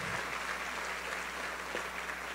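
Church congregation applauding their pastor during a Wednesday evening service, a dense steady wash of clapping from a large crowd that carries evenly for a couple of seconds at moderate loudness.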